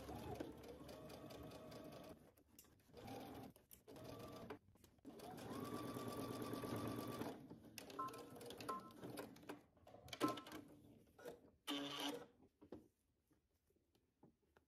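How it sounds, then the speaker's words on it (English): A home sewing machine stitches in the ditch along a seam of a garment yoke, running in steady bursts of rapid mechanical clatter with brief pauses between runs, close and moderately loud. "I'm gonna stitch in the ditch, which means that I want my needle to go right in between this seam"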